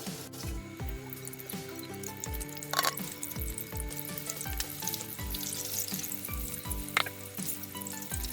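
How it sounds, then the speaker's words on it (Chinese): Breadcrumb-coated corn deep-frying in oil over low heat gives a steady, moderate sizzle and crackle, with a repeating musical bass line running underneath throughout. "接下来把这个裹好面包糠这个玉米放下去"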